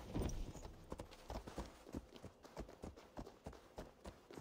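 Video game horse hooves from Assassin's Creed Valhalla clip-clop in a steady, even rhythm, moderately close and quiet, with no voices over them.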